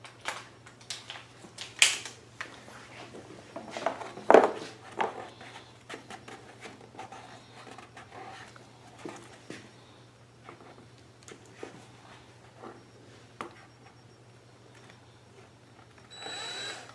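A step drill bores a hole through the plastic casing of a Generac GP3000i inverter generator, giving scattered bursts of grinding and clicking nearby with pauses between, and a steady low hum underneath.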